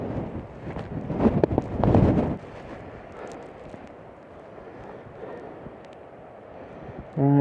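Seaside wind gusts across the microphone on a headland walk near Filey on the Yorkshire coast, a steady rough rumble that swells loudest early on and then settles into a softer, continuous blowing, with no one speaking.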